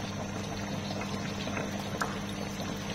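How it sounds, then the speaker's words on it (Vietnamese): Water with sugar in a pot boils steadily, giving an even, close bubbling hiss throughout with no pauses and no talking. "Nó sôi rồi"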